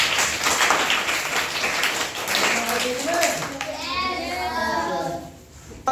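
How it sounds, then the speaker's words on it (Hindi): Children clap together in a classroom for a few seconds, a dense patter of hand claps that fades out as young voices start chattering and calling out. "ताली बजाइए।"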